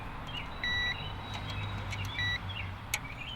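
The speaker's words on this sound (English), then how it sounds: "Oh, it's beeping." Electronic beeping sounds inside a Honda Civic while its front speaker leads are tested, two sustained tones a second or so apart over a faint background hum.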